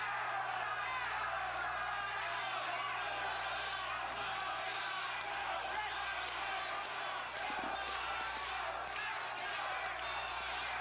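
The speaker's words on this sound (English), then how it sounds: "Crowd now chanting for Scott." Boxing arena crowd at a light-heavyweight bout with James Scott, a dense, steady roar of many voices with rhythmic chant-like swells in the final seconds of the fight, under a constant low hum.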